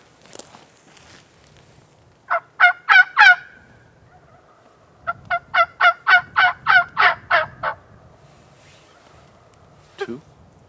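Wild spring turkey gobbler in the backwoods mountains of Washington, gobbling loudly and nearby in two bursts of rapid rattling calls, a short one followed by a longer series, with faint rustling footsteps between them.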